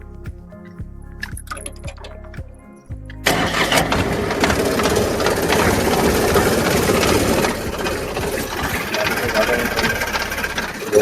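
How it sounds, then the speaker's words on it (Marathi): A stalled engine on a farm is cranked with its starter and catches at about three seconds, then runs loud and steady close by, with some knocking and a voice faintly heard beforehand. "चला आता एकदा स्टार्टर मारून पाहूया."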